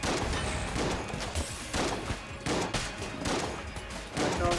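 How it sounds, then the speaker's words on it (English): A shotgun fires repeatedly in Enter the Gungeon, with loud, punchy bursts coming in a rapid irregular rhythm amid chaotic action, and no voices heard. "Shotgun."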